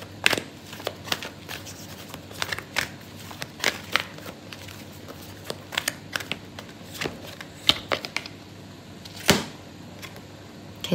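Tarot cards being shuffled by hand close up, a loose run of quick papery flicks and slaps at irregular intervals, with a few louder snaps standing out.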